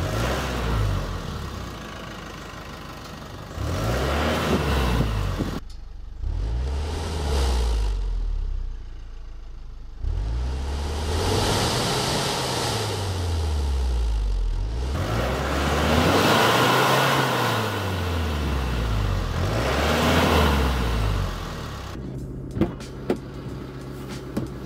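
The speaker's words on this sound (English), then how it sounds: "now that it's nice and warmed up, we'll get some revs" A tuned Chevrolet Colorado Duramax diesel pickup with downpipe and exhaust revs up and down repeatedly, swelling and falling in long sweeps with brief idling gaps, close and loud with no talking.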